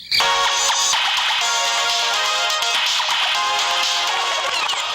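Phone ringtone in a Tamil drama, a loud bright electronic melody that plays without a break for several seconds, close and alone without talk.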